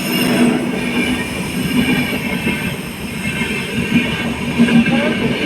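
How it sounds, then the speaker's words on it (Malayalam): A train rolls past close by, loud and sustained, with heavy rumbling, a squeal from the wheels and rattling carriages throughout. "ഇതിലേ ഒരു ട്രെയിൻ വരുന്നുണ്ട് കേട്ടോ"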